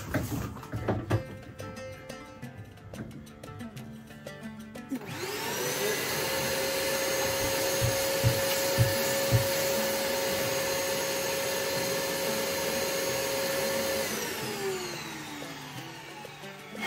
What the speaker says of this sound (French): L'aspirateur là va se mettre en route automatiquement chaque fois.